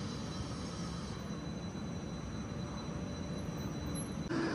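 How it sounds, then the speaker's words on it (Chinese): Wuyi tram line 1, a four-car tram, entering the station and turning around, a steady low rumbling drone with faint high squeal, continuous and moderately distant, with a brief change near the end. "这个时候有轨电车进站需要掉头"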